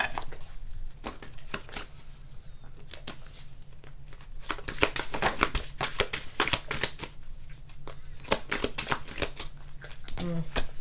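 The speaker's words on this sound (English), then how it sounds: "Sorry if it's a lot of noise with the shuffling" Tarot cards shuffled rapidly by hand, producing a dense, continuous stream of crisp riffling snaps and flutters, close-up and loud throughout.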